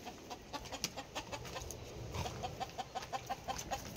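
Chickens cluck in quick, short bursts nearby, a rapid series of clucks repeating steadily amid faint background noise.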